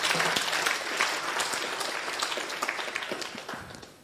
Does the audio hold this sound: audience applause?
yes